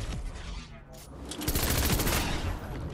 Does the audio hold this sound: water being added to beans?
no